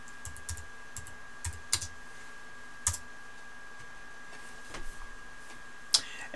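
Scattered keystrokes on a computer keyboard, a few light clicks in small clusters with gaps between them, close but quiet over a faint steady hum.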